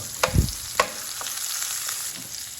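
Ginger and onion sautéed in a pan for tomato-stewed tilapia: a steady sizzle broken by a few quick spatula knocks early on, close and fairly loud, with no talking.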